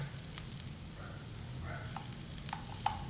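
Sliced red onion frying in oil in a frying pan makes a faint, steady sizzle with a few light clicks and scrapes of stirring, close but quiet.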